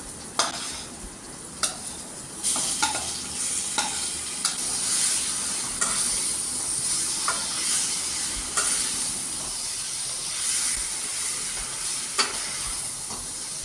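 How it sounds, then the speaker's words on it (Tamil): Boiled vermicelli being stirred into a fish mixture in a pan, giving steady sizzling and frying hiss with repeated scraping stir strokes throughout, close and fairly loud with no talking. "இப்போ இதில் நம்ம வேக வச்ச சேமியாவை போட்டு நல்லா கலந்து விட்டுக்கலாங்க"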